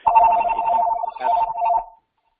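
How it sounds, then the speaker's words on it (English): A telephone rings through a webinar's audio line, a loud, steady electronic trill in two bursts before it cuts off into silence. "the phone is ringing and we're hearing it on the webinar"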